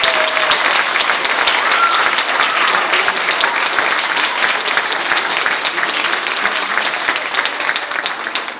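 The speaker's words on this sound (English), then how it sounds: "So let's have a round of applause." A school concert audience of a middle and high school band and strings performance applauds loudly and continuously, a dense wash of clapping that fills the room for several seconds before easing slightly at the end.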